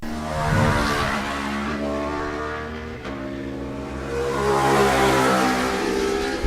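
Aprilia RS660 race motorcycle at full throttle along the front straightaway during a road race, a loud, steady, harmonic engine tone that dips briefly and then climbs again.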